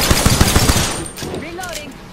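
Rapid automatic gunfire in the shooter Apex Legends, loud and close, then trailing off into chirpy game sound effects.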